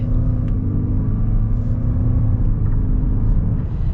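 A 2022 Lexus NX 350h hybrid accelerating at partial throttle, a steady, loud engine and road rumble heard from inside the cabin, with no talk over it.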